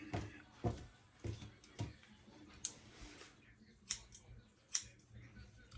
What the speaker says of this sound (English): So now I'm just trimming it, just to kind of make it even.